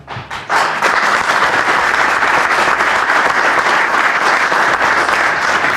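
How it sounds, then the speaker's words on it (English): An audience at a civic honors ceremony applauds the city police department, the clapping rising after a few scattered first claps into a loud, sustained, dense ovation from a large crowd. "Please give them a round of applause"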